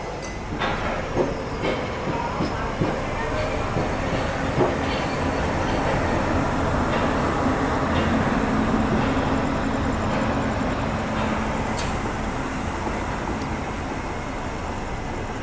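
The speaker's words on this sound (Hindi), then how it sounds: "6 नंबर से गाड़ी भी अपनी खुल चुकी है" Pune–Ahmedabad Ahimsa Express pulling out of Vadodara Junction platform 6, a loud steady rumble of rolling wheels and rail clatter that fills the whole stretch, with faint clicks of the joints and no voices.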